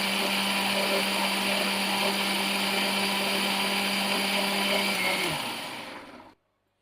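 A kitchen mixer grinder whirs loudly and steadily while blending jamun fruit in pulse mode, its motor drone holding for about five seconds before winding down and stopping into silence.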